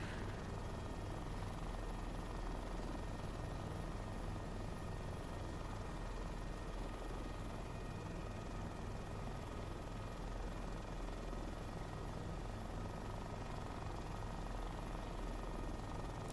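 Helicopter taxiing slowly across a grass airfield, a steady close rotor and engine drone holding level and continuous throughout with no talking.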